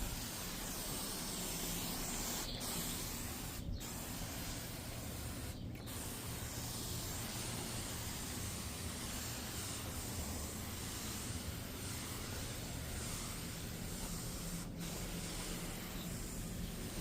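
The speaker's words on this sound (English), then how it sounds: "So I'm gonna pre-spray this, pre-spray that" A pump-up sprayer mists pre-spray cleaning agent onto upholstery during a restoration job, a steady close hiss running continuously with a few brief pauses.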